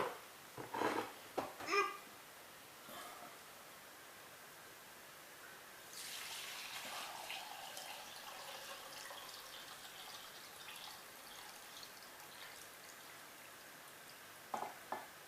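95-degree alcohol poured from a bottle for homemade limoncello: a steady liquid stream runs for several seconds, faint and close, with a few clinks and handling knocks before and after.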